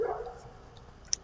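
Dogs barking outdoors in a backyard setting, a few faint distant barks and yips that come and go over quiet background ambience.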